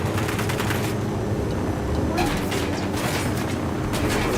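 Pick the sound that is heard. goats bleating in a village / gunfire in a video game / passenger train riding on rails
gunfire in a video game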